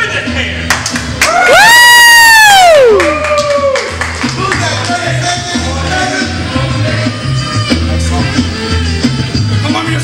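Wrestling crowd at a WMWA independent show cheering and clapping loudly for a wrestler, with a long swelling shout near the start that fades into scattered applause and chatter in the hall.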